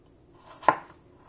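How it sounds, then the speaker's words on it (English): A single knife cut slices through apple on a board, one crisp close chop with a short sharp thunk and no talking. "And then you just need to cut into slices."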